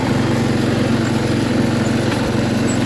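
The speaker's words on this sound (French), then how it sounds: "c'est bien de faire ces petits chemins avec un tracteur et une remorque" A tractor pulling a trailer along a narrow woodland path drones loudly and steadily at close range, with a constant low engine rumble throughout.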